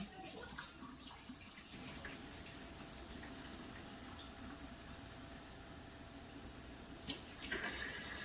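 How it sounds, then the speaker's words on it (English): Steady rushing of tap water running for several seconds, fairly close, with a brief change in the flow near the end and no talking. "a cup of lukewarm water, and I just run my water."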